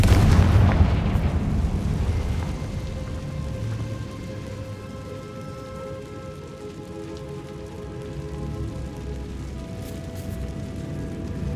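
A Confringo fire-spell blast in the Hogwarts Legacy video game hits as a loud burst at the start, then fades into a long crackling, rumbling tail with a faint lingering hum. No voices.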